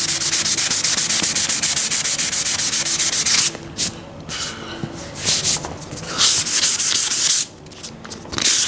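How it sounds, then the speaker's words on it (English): Repaired, formerly peeling leather is sanded by hand in loud, steady rasping strokes that run continuously, broken by two short pauses. "Sand the whole thing down."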